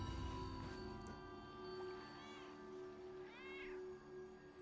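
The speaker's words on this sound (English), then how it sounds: "It's a cat." A cat in the video game Throne and Liberty gives two short meows over a low, steady ambient background with faint rustling, soft and fairly distant.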